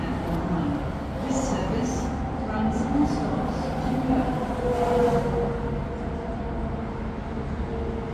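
A four-car A-series suburban electric train in Perth rumbles steadily as it pulls in, with a low hum and clatter of carriages filling the air at close range.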